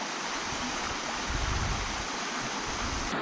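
Steady rainfall patters outdoors as it starts to fall again during an outdoor shoot, a continuous broadband hiss with a brief swell of heavier splashing midway and no talk.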